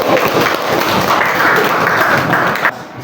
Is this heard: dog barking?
no